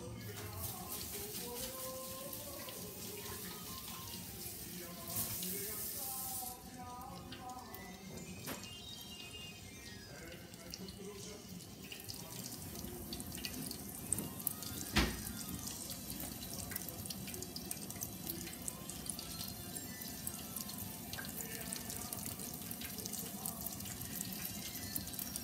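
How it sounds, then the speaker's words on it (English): Hands are washed under a running kitchen tap while cooking, with a steady rush of water flowing throughout and occasional splashes near the sink. "now let me wash my hands that way."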